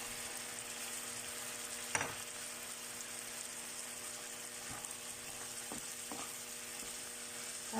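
Broccoli and chicken stir-fry with oyster sauce in a pan, giving a steady, soft sizzling hiss throughout, broken by a few sharp clinks of a utensil against the pan.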